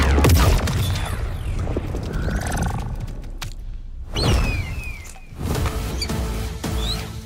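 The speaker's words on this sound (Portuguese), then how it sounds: "Ativar a explosão sônica!" Sonic blast special move in the Mortal Kombat 1 fighting game, a series of loud booming bursts and whooshing sweeps with sharp impacts, punctuated by brief gaps between the blasts.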